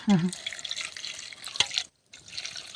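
Water pours and splashes into a cooking pot of curry with chilli, turmeric and spices at a forest kitchen, a close trickling and gurgling stream that briefly stops, then resumes.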